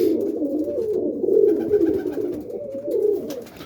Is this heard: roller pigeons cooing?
yes